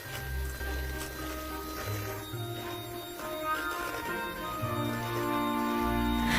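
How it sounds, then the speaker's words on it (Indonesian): An electric hand mixer runs at high speed, beating eggs and sugar in a bowl, giving a steady, loud motor whir with tonal hum that holds throughout, no talking. "Kemudian mixer dengan kecepatan tinggi."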